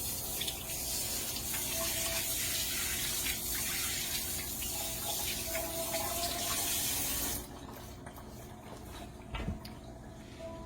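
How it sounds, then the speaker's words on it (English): Water runs steadily from a kitchen tap while hands are washed during biscuit making, a loud continuous gush that drops to a quieter trickle partway through, with faint splashes near the end. "I have to wash my hands real quick"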